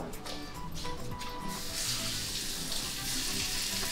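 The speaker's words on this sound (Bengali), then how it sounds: "এখন এই মুরগি কষানো পর্যন্ত ওয়েট করতে হবে" Chicken frying with ginger garlic paste in a pan, a soft continuous sizzle and hiss with light stirring clatter, fairly quiet and close.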